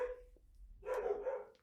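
Dogs bark nearby at home, one short bark at the start, then a louder burst of several overlapping barks near the end, heard over a low hum.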